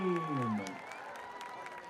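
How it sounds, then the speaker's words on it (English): A crowd applauds and cheers in the stands at a high school varsity football game, with a PA announcer's voice echoing briefly at the start before the clapping carries on alone. "Let's hear another round of applause for your Tiger Dance team."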